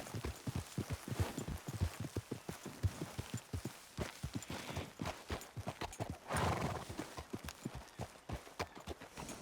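Horses walking on a road in the Red Dead Redemption 2 video game, a steady, close clip-clop of hooves with a whinny, fairly quiet overall and with no talk.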